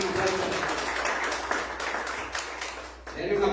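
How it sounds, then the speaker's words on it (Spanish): Members of a church congregation clap together in a steady, dense patter of applause that fills the space, with voices talking over it and a short dip near the end before it swells again. "Denle un aplauso al Señor"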